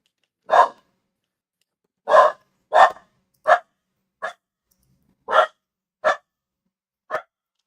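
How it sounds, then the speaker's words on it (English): A neighbor's dog barks about eight times in short, sharp bursts at irregular intervals, fairly close and clear, with silence between barks and no talking. "probably my neighbor's dog"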